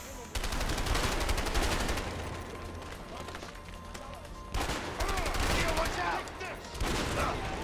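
Rapid bursts of gunfire from a weapon in the video game A Way Out, loud and dense in two long volleys with a brief lull between, with a voice talking over the shooting.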